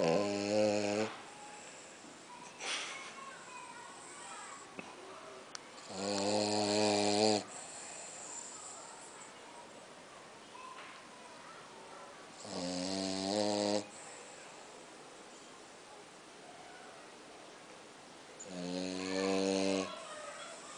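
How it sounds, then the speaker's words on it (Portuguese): A French bulldog snores loudly in slow, regular rounds, each long rattling snore followed by a quiet pause, close to the microphone with no talking. "Para de roncar."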